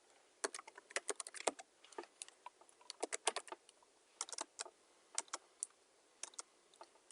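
Irregular bursts of keystrokes on a computer keyboard while a name is entered during an Exchange Server 2016 setup, close and crisp with short pauses between clusters, no talking.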